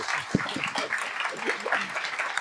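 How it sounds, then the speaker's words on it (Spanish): A crowd breaks into steady, dense applause, many hands clapping together with a bright, crackling texture that continues throughout. "creo que la reacción correspondiente es un aplauso"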